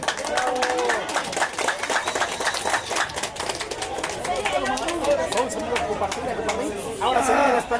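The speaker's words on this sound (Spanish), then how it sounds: "para quien les pido fuerte voto de aplausos" Applause and crowd chatter at a 50th birthday party, steady clapping with voices mixed in throughout, swelling near the end.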